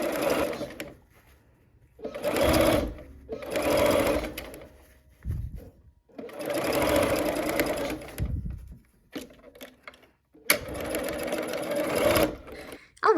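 Sewing machine stitching a Coral Bells quilt block, running in several bursts of rapid, steady mechanical whirring separated by short pauses, close and fairly loud.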